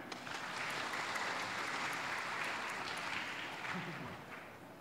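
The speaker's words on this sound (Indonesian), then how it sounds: "Jadi untuk Prof. Budiana sekali lagi tepuk tangan" An audience in a hall at a university opening ceremony gives sustained, dense applause at a moderate distance, steady for several seconds before tapering slightly at the end.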